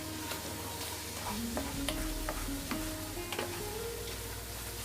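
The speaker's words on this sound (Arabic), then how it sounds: "بس نحرك البيض باش يطيب، خاصو يجي مفرتت" Eggs stirred in a pan until crumbly for a pastilla filling, a steady close sizzle with light, irregular scraping and tapping of the utensil against the pan, with no talk.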